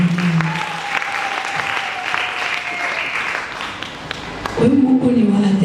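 At a five-day gospel seminar, a congregation claps warmly for Jesus in a continuous round of applause, while a voice carries over it and grows louder near the end.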